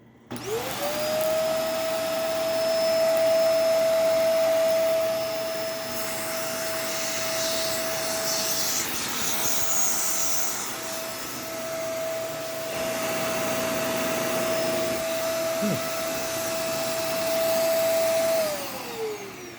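A vacuum cleaner straining on its suction drones loud and close, with a steady high motor whine that starts up, holds with slight wavering, then winds down near the end.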